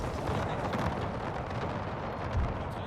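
Musket volley fire from a line of soldiers in a Napoleonic-era battle game, aimed at retreating grenadiers, sounds as a dense, continuous crackling roar with a heavier thump near the end, loud and close.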